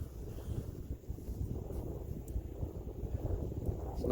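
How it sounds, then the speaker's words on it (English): Steady cold wind gusting along the Lake Michigan shore, a broad continuous roar with low rumbling buffeting against the microphone, no voices. "It's about 35 degrees, windy."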